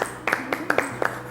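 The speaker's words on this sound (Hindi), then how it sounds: "वो वाला तालियां बज रही हैं।" Scattered hand claps from a studio audience on a TV One Iftar poetry show, a handful of separate sharp claps in a loose, uneven rhythm, fairly close, with a faint voice underneath.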